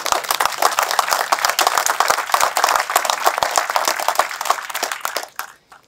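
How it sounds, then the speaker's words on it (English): A crowd at a library branch ribbon-cutting ceremony claps, with individual hand claps clearly audible in a brisk, sustained round that thins out and stops near the end. "I'd like to give all of these individuals a round of applause"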